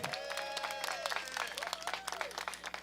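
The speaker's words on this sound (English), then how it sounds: "So Rick and Marie Lee, give them a big round of applause" Clapping rings out at a flower shop reopening ceremony, mixed with cheers and overlapping voices close by, brisk and irregular for a few seconds.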